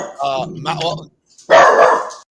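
A dog barks in two loud, close bursts of yelping, whiny barks with a short pause between them, and no talking over them.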